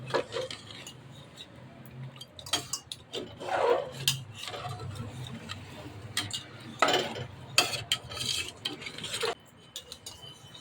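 Intermittent scraping and clinking of a spoon stirring chicken biryani with water inside a metal pot, irregular strokes with brief pauses, close by and moderately loud.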